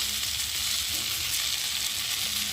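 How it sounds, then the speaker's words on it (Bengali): Potato and brinjal pieces fry in hot oil as green chillies are added, giving a steady, close, bright sizzle that holds evenly throughout. "তো দেখো বন্ধুরা আলু বেগুনটা ভাজা ভাজা হয়ে এসেছে। আর এখন আমি দিয়ে দেবো কটা কাঁচা লঙ্কা"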